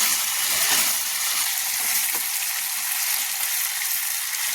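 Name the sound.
chicken meat frying in a pan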